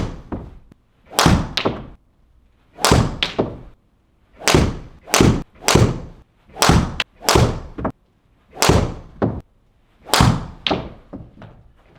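A Stealth 2 golf driver set at 9 degrees strikes balls, producing about a dozen sharp, loud impacts spaced roughly a second apart, each with a short decay and no talking.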